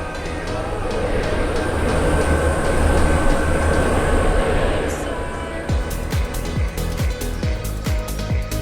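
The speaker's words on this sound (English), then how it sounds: "Oh look, a Class 805." A Class 805 passenger train passes in the British Railway video game, a loud steady rumble building and fading before rapid clickety-clack wheel beats over rail joints, with talking over it.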